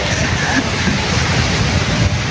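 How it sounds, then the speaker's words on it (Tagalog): Heavy rain pours steadily outdoors at a fishing spot, a loud, dense hiss with wind roar filling the whole stretch without pause. "Ayan lakas pa ng ulan eh."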